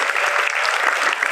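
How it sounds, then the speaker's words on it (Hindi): Schoolchildren clap together in a brief, dense burst of applause, close and lively, lasting just over a second. "अपने लिए एक बार तालियां बजा लो"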